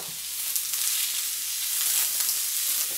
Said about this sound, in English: The first thing we're gonna cook is 1 cup of chopped up white onions.